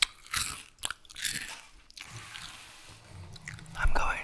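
Crunchy food bitten and chewed right against the microphone, several crisp crunches and wet chewing sounds with brief whispery breaths in between.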